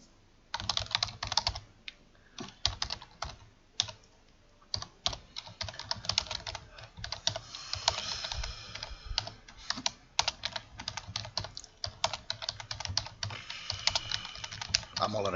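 Rapid, irregular typing on a computer keyboard, with close, crisp key clicks in bursts and brief pauses, running continuously for about fifteen seconds with no talking.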